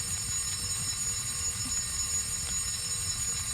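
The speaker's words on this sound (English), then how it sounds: "the shrill sound of the fire alarm began to resound throughout the building." A fire alarm ringing throughout a burning school building in the visual novel The Fruit of Grisaia, a steady shrill electronic tone held constantly over a low rumbling bed, with no voices.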